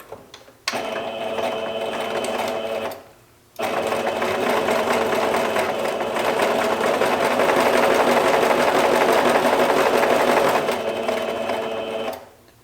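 Sewing machine stitching the corner of a fabric stuff sack, a loud, close mechanical whir in two long bursts with a brief stop between them.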